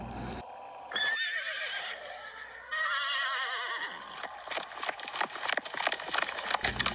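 A horse whinnies loudly in a long, wavering neigh, followed by a second neigh and then a burst of rapid hoofbeats clopping close by, as a sound effect in a snowy forest horror story set in Mongolia.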